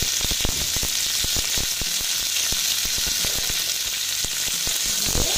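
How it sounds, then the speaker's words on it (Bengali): Pumpkin fries in a pan and is stirred, with loud, close sizzling crackle and frequent sharp spoon scrapes and taps against the pan in an uneven rhythm, with no voices. "আবার আমি নেড়ে দিচ্ছি।"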